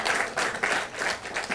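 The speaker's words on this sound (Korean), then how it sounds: "우리 검찰총장 인사청문회 후보 그 청문위원 여러분들께 박수 한번 쳐드리면 어떻습니까?" Applause from a crowd at a Liberty Korea Party general meeting of lawmakers, steady close clapping with a rhythmic pulse.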